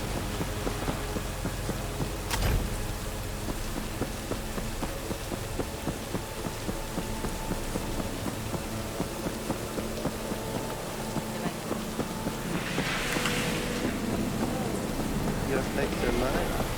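Steady heavy rain pours through a night scene in the video game Cyberpunk 2077, a constant loud hiss on surfaces with a brief sharp crack early on and a brighter splash of noise later, with someone speaking over it.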